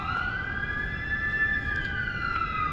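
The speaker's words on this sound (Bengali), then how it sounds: "অ্যাম্বুলেন্স যাচ্ছে।" An ambulance siren passes by near an old stadium area, its wailing tone rising and falling steadily at moderate distance over low traffic hum, with no voices.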